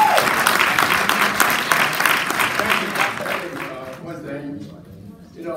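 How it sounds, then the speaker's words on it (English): Audience applause at a keynote address on mass incarceration in Baton Rouge, Louisiana, with dense clapping that builds and then thins out over several seconds while voices speak over it. "Let's give a wonderful round of applause."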